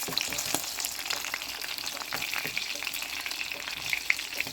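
Green chilies frying in hot oil give a steady crackling sizzle with small pops throughout, close up and with no voices.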